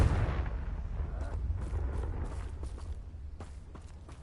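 Confringo, the explosive spell in Hogwarts Legacy, bursts with a deep rumbling blast followed by a rolling low boom and a few sharp crackling impacts as it fades, faint and alone.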